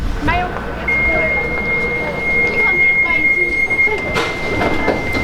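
A Nottingham tram's door warning beeper sounds as a steady high tone lasting several seconds, set against loud rumbling rail and platform noise with people talking nearby.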